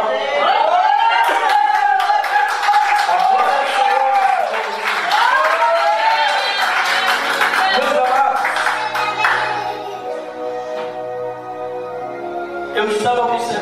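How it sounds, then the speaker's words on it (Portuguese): Church congregation clapping in praise at a worship service, loud sustained applause with voices and chatter mixed in, tapering toward the end. "Louva a Deus com as palmas"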